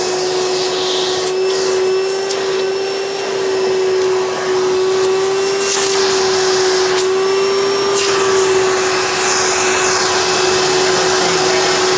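A Hoover Turbopower 4000 (Legacy Supreme) upright vacuum cleaner, model U5101-930, runs steadily and loudly up close, a continuous whining drone with a strong fixed tone and small shifts in airflow, with no voice over it.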